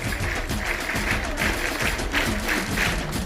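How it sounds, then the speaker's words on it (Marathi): Steady crowd applause at a Shiv Jayanti week prize-distribution ceremony, a dense continuous clapping from many hands with a few louder rhythmic claps standing out, no voices. "एका या सर्वांसाठी 3 टाळ्या."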